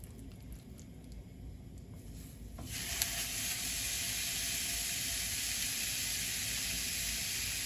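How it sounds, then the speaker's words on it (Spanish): Pork ribs searing in a pot for a Cuban chickpea stew, a quiet low hum that bursts into a loud, steady sizzle and hiss at about three seconds and holds, with no talking. "vamos a comenzar sellando nuestra carne."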